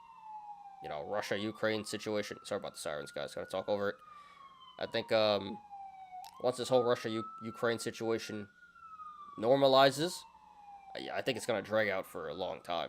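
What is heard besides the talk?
emergency vehicle sirens passing outside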